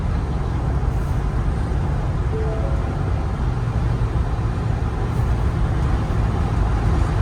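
Steady broadband wind and road roar envelop the cabin of a 2022 Ford Bronco Black Diamond Sasquatch at about 70 mph on the highway, loud and continuous around the roof with no gaps.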